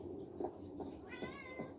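Several short cat meows in the video game Minecraft, quiet and spaced about half a second apart, over a low background hum.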